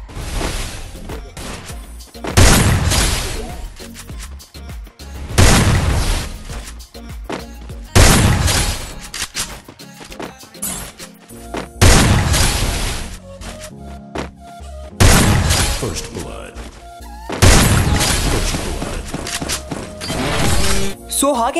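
Shotgun blasts from the video game Free Fire, about seven loud, sharp shots spaced a few seconds apart, each a bright cracking burst over a busy background of game sounds, with a voice speaking between shots.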